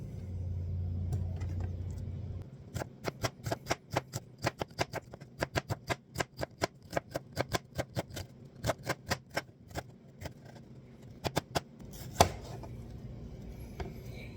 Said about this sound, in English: you want thin slices, and we're going to do this to the rest of the onion